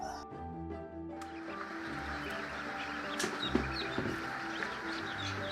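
Egg-laying ducks on a duck farm call steadily as a dense, continuous flock, with overlapping quacks and clucks at moderate loudness throughout and some faint voices in the background.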